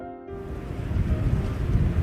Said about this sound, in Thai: ฮะเสียงสายลมนี่มัน